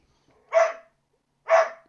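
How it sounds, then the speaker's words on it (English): A dog, a female, gives two separate mid-pitched barks about a second apart, close and clear with silence between them. "I don't know what you're barking for, girl"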